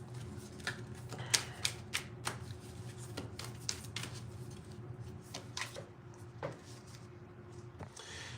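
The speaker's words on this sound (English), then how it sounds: "I'm gonna pull a tarot card here." Tarot cards are shuffled and pulled, giving soft, quiet riffling and sharp card snaps in irregular clusters close by.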